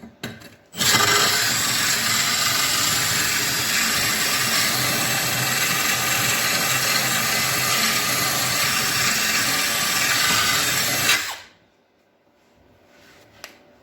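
A drill-powered blade sharpener grinds a lawn mower blade in one continuous, loud, harsh rasping stretch of about ten seconds that cuts off abruptly into near silence.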